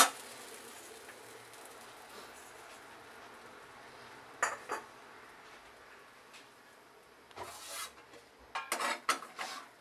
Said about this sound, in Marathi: भाकरी उलटायची.